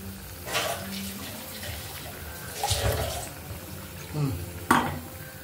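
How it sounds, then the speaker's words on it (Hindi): Water poured into a pan while cooking a Kannada-style prawn fish recipe, a splashing, running stream in short bursts with clinks of utensils between them, close and moderately loud. "थोड़ा पानी और ऐड कर दूँगी"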